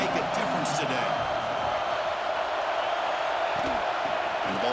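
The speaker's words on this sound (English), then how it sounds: "this home crowd is fired up and ready to make a difference today" A home football crowd in a game against FSU roars as a broad, constant wash of noise beneath a commentator's voice.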